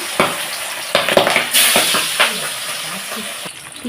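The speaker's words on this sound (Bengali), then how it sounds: "তেল গরম করে নিয়েছি কড়াইতে ছেড়ে দিচ্ছি এক একটা করে" Fish pieces are dropped into hot oil in a wok, setting off loud, close crackling and bubbling sizzle with sharp spattering pops and stirring noises throughout.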